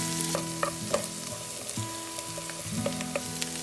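Ginger and green chili frying in a pan for a hot and sour mixed vegetable soup, a steady close sizzle with light scraping and stirring clinks scattered through it, no voices.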